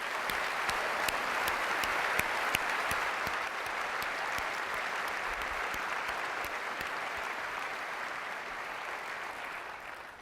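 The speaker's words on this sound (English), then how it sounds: "I'd really like to give one more round of applause, thanking all of our developers for their amazing work" A keynote audience at Apple's WWDC 2008 gives a round of applause, a broad sustained wash of clapping from a large hall with a few crisp close claps, slowly tapering off.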